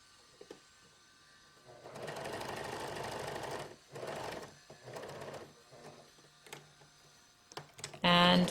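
Sewing machine stitching the seam of a child's sun top with flutter sleeves, a steady mechanical whir in several short runs separated by pauses, close by, with speech over parts of it.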